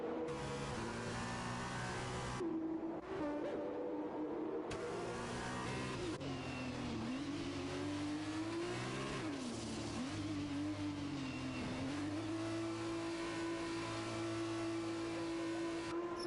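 A Formula 2 race car engine in F1 2021 at Monaco hums and revs with a wavering tone after the car spins into the wall, with a few sharp cuts and loud, close throughout.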